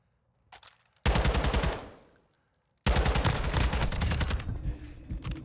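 Loud automatic gunfire in a first-person shooter video game: a short burst trailing off, a pause, then a longer sustained burst of rapid shots, with a faint shot beforehand and no talking.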